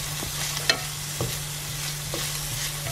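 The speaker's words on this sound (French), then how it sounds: "Je vais mettre de l'huile d'olive et je vais faire un petit peu genre caraméliser les oignons rouges." Red onions caramelizing in butter and olive oil in a pan make a constant, moderate sizzle with a low hum beneath, punctuated by a few soft clicks and scrapes from stirring.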